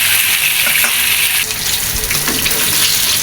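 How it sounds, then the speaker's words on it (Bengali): Pieces of rohu fish fry in oil after being turned in the pan, giving a close, loud bubbling sizzle with occasional sharper spits and crackles. "রুই মাছগুলো ভাজা হয়ে গেছে, এখন আমি উল্টোই দিলাম মাছগুলো।"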